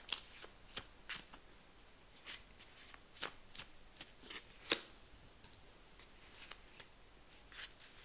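Tarot cards being shuffled by hand close up, a quiet run of crisp riffling flicks and soft slaps at an uneven pace, with no talk over them.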